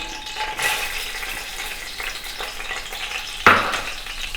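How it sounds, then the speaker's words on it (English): Crushed cardamom frying in four tablespoons of ghee over low heat: a steady sizzle throughout, with a sharp burst near the start and another louder crackle toward the end. "So I put the crushed cardamom in and I let it fry."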